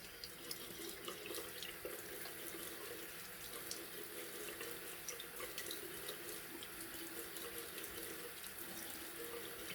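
Water runs steadily from a tap into a sink, a continuous faint splashing stream with small irregular spatters, heard alone without voices.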